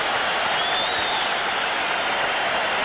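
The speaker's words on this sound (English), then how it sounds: "Tremendous ovation, and he deserves it" A packed arena crowd at Madison Square Garden gives a boxer a sustained, roaring ovation before a heavyweight fight, dense steady applause and cheering filling the hall without a break.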